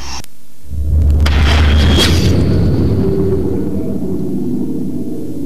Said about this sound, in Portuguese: Agora, o disparo num capacete normal.